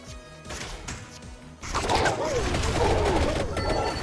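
Soft pigeon cooing and warbling calls rise over a busy, layered soundscape in the video game Vampire Crawlers, continuous for a few seconds.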